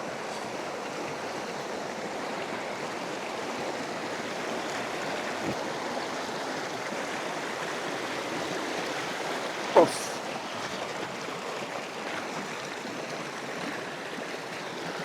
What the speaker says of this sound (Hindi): देखो बीच ग्लेशियर में एक छोटा सा दरिया आ रहा है आगे पिघल के पीक से भी